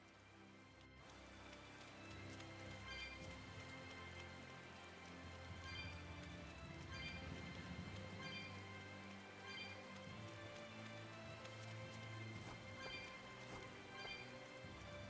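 Steady rain falls in a video game scene, a continuous dense patter on surfaces that holds at an even moderate level throughout with no talk.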